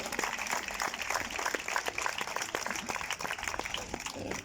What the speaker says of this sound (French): on peut les applaudir parce que c'était 12 jours de grève